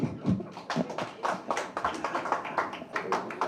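Scattered clapping from an audience at a Tamil film audio launch, quick uneven bursts of hands rising and falling over a few seconds, moderately distant and fairly soft.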